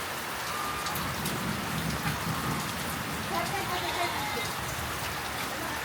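Steady rain pours down on a farm, a dense, even hiss of drops drumming on surfaces that holds at the same level from start to finish.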